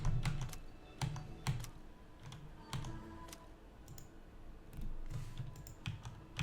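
Keyboard keys clatter and a mouse clicks in quick irregular bursts while someone plays Robin Hood: Sherwood Builders on PC, close and fairly loud, with no talking.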